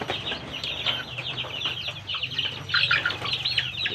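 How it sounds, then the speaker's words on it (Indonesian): Village chickens flutter and scuffle nearby in a vegetable garden, with busy wing flaps and faint clucks over a rustling outdoor background. "Nah, ini ayam kampungnya lur."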